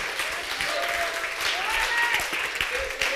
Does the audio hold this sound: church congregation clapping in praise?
yes